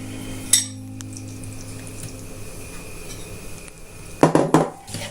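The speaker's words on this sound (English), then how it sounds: "Give it a good mix" Cutlery clinks against a bowl as roasted cherry tomato and mozzarella salad is mixed, one sharp clack early and a quick cluster of scraping clatters near the end over a steady low hum.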